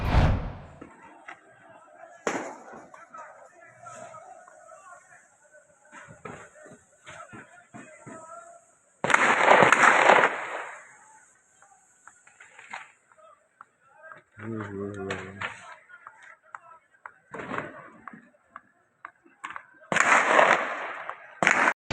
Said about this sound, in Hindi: यहाँ पे स्नाइपर चलाई जा रही है, यहाँ पे AK-47 का इस्तेमाल किया जा रहा है।